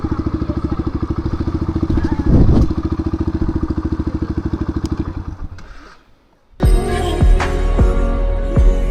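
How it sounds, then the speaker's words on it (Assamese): A motorcycle engine runs with a steady, rapid pulsing throb for several seconds, then cuts out into a brief near-silence, followed by close clattering and knocking handling noises as the bike is parked. "তো এতিয়া আমি বাইকখন ইয়াতে অলপ পাৰ্ক কৰি থৈ দিওঁ"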